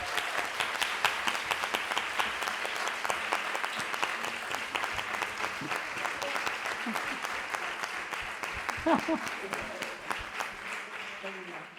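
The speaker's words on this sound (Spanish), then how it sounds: "Un aplauso, por favor." Sustained audience applause at a Spanish feminist association's award presentation, dense steady clapping filling the room throughout, with a few voices calling out faintly beneath it.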